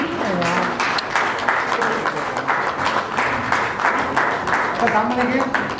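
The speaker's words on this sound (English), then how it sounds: "A round of applause for Muhammad Azizur Rahman Salfi" An audience claps for an award recipient at a ceremony, steady applause throughout with a voice speaking over it.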